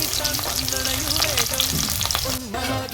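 Sliced shallots, ginger and garlic sizzle in hot oil, a loud, close, continuous crackling fry with scraping stirs over the top.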